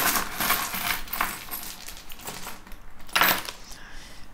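Divination charms being cast for a tarot-style reading: a cluster of small hard trinkets clinks and rattles as it drops and settles, with a few sharp chinks and a brighter clatter near the end, alone and close.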